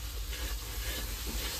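Spices and meat sizzle in a hot pan during home cooking, a steady close frying hiss with soft stirring texture and no talk.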